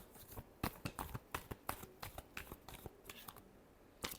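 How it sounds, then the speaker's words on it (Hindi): Tarot cards are riffled and shuffled by hand in a quick, irregular run of crisp flicking slaps, close and fairly quiet, with no one speaking. "Last shuffle."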